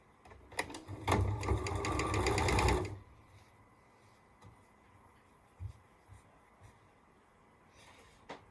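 A sewing machine chain-stitching quilt blocks for a nine-patch runs in a quick steady whir for about two seconds and then stops, leaving quiet room tone with a few soft handling knocks.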